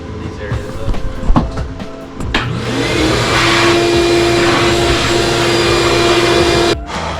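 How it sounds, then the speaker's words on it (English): Vacuum cleaner running around a car engine's intake area during a 6.2L intake manifold and throttle body install, starting after a few knocks and clunks and then holding a steady, loud whine with a constant tone. "Vacuum these areas up."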